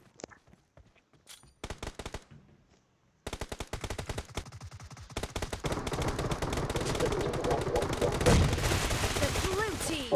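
Rapid automatic gunfire from a PUBG Mobile match, with dense overlapping bursts that start sparse and build into sustained, loud volleys.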